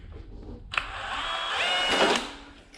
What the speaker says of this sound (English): drill through here and hopefully not get hurt